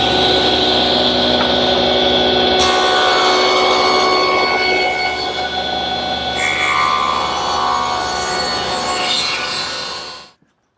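Table saw bevel-cutting molding at 30 degrees in a woodworking shop: a loud, steady whine with the blade ripping through wood for about ten seconds, then quickly winding down.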